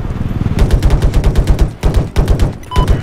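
An enemy machine gun in Battlefield 4 fires in rapid sustained bursts, loud and close, with a short pause midway before another stream of rounds.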